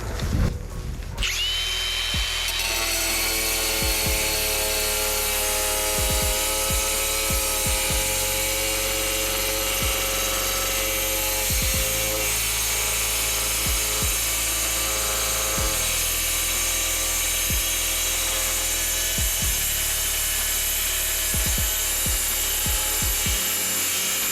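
A diamond cutting disc on a power tool grinds steadily through material for over twenty seconds, a loud continuous high whine with a low hum beneath and occasional short knocks, no voices.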